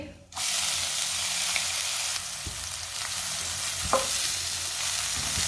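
Finely chopped onion tossed into a hot pan, an abrupt burst of sizzling that settles into a steady crackling fry, with a few stirring knocks of a spoon.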